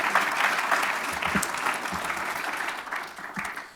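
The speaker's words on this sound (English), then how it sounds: "can we just have a quick round of applause for everyone who did that organizing?" A forum audience gives a brief, steady round of applause, an even crowd of clapping hands at moderate volume that fades slightly toward the end.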